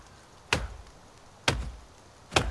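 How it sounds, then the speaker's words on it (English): An axe chops trees for logs in the video game The Forest, giving three sharp, thudding chops spaced about a second apart, close and distinct with no talking. "let's start chopping down wood. We need lots of logs."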